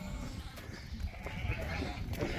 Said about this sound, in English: So these are some of the older lambs